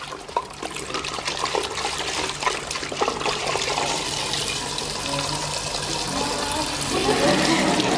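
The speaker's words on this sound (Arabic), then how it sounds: "بص على النبي نزول الميه كده بطيء شويه" Water drains slowly from a bottle during a school physics demonstration, a steady close gurgling and trickling that grows slightly louder near the end.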